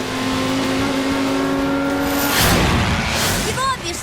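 A race car engine revs loudly and steadily in Flash & Dash, its tone rising and shifting as the car surges ahead, with a brief whoosh near the end.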